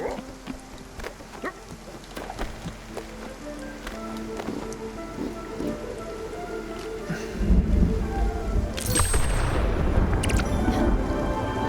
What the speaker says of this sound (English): A storm!